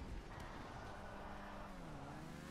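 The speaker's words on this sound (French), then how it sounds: "Ok, je suis en moto." A motorcycle engine drones in a racing game, a low, steady whine with a pitch that sags slightly, heard faintly and continuously.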